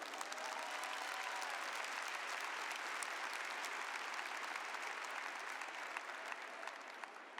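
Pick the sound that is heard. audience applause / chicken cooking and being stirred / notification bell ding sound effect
audience applause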